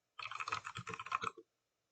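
Rapid run of keyboard typing on a computer, a dense burst of close clicky keystrokes lasting about a second, then silence.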